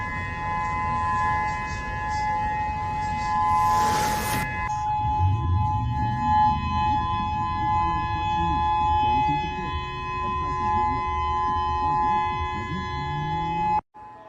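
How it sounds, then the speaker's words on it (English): Civil defense tsunami warning siren sounding across Hawaii, a steady sustained wail held loud and unbroken for the whole stretch, with a brief burst of other noise early on and faint talk underneath. "Breaking tsunami sirens are now blasting across Hawaii after warnings were issued."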